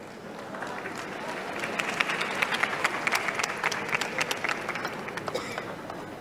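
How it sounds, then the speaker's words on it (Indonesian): A crowd of people clapping at a busy public gathering, applause building into a dense, lively patter with scattered louder claps, fairly close, mixed with murmuring voices. "Tepuk tangan dulu dong, semangatnya mana nih?"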